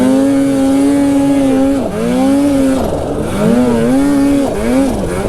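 Snowmobiles climb up through the trees, a loud, close engine drone rising and falling in pitch as the throttle is worked, with several surges and dips over a few seconds.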